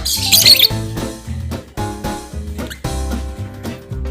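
A lovebird chirps in rapid, loud, close bursts of sharp squeaky notes, with a harsher scratchy flurry at the start and no voices.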